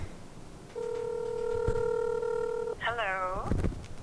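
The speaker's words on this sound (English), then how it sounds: "let's give my mom a call." A flip phone dials out, a steady dial tone holding for about two seconds, followed by a short descending electronic chirp and a few clicks.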